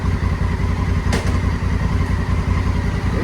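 A motorcycle engine runs steadily on its center stand with the rear wheel off the ground, shifted into first gear with a brief clunk; a loud, close, continuous low rumble plays alone.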